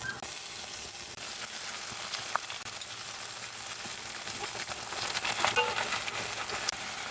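Tilapia frying in a pan with chopped onion, an unbroken crackling sizzle that holds steady throughout and grows slightly louder toward the end, with no talk over it.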